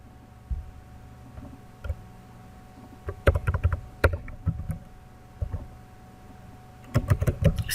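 Someone types on a computer keyboard while entering an Excel spreadsheet, producing sparse clicks with short bursts of rapid keystrokes between pauses in a quiet room.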